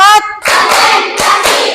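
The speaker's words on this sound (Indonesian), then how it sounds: "Coba tepuk 1, tepuk 2, tepuk 3, tepuk 4" Children clap together in a classroom ice-breaking game, a few loud group claps landing in a counted rhythm, with a brief voice at the start.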